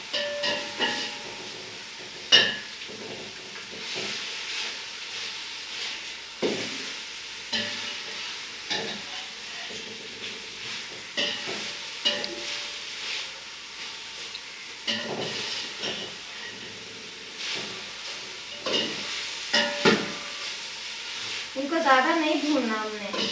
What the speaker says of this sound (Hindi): ये जो मैंने सब्जियां डाली हैं ये जब तक इसकी खुशबू ना आना स्टार्ट हो इसको फ्राई करते रहें